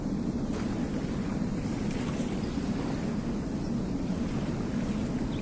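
River water at a lonely forest riverbank, heard as a steady, broad wash of flowing water with a windy, rushing texture that stays even and unbroken throughout, with no voices present.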